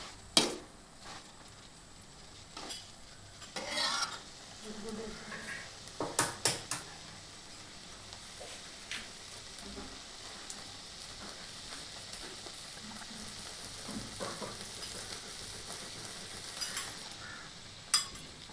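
Eggs cooking with drumstick leaves in a pan: a steady soft sizzle runs throughout, broken by scattered clinks and scrapes of a utensil stirring and a brief cluster of knocks near the middle.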